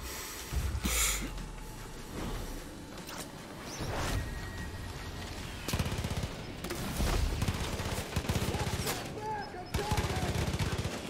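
Gunfire in Far Cry New Dawn comes as bursts of shots spread across the stretch, mid-distance and fairly loud, with a person talking over the shooting.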